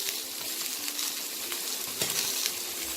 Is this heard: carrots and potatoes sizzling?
yes